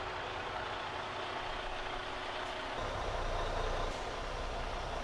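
A tanker truck idles as it pulls up at a customer's offload tank, a steady low diesel rumble with a faint hiss, the engine note shifting slightly partway through, no voices.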